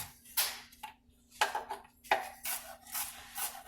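A knife slicing a red onion on a cutting board, making a series of close, quiet rasping strokes in irregular bursts against the board with no talk.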